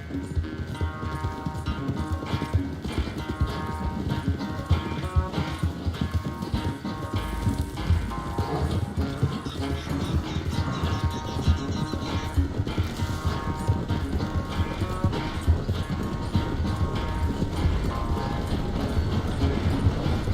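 Rapid galloping hoofbeats of a horse in Red Dead Redemption 2 drum steadily for the whole stretch, layered over continuous game music.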